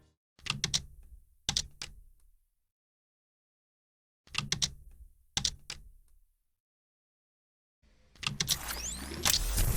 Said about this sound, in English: this is what the timing sounds like on keyboard